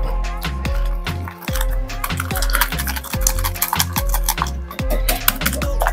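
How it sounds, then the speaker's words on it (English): Old Bay seasoning, lemon juice and salt being whisked in a bowl, rapid rhythmic clinking and tapping strokes of the whisk against the bowl, close and loud with no voices. "And then we're gonna whisk this all up"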